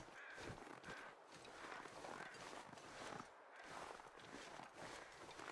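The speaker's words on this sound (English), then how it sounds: "I can hear crows, which means that there's probably a frozen corpse" In the survival video game The Long Dark, crows caw faintly in a wintry outdoor scene, with crunching footsteps and a low wind bed beneath.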